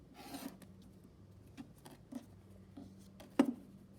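Quilt block fabric is trimmed along a ruler that is held firmly in place, producing faint, soft scraping and rubbing strokes with a few sharper taps. The sounds are close by and fairly quiet, spread across a few seconds.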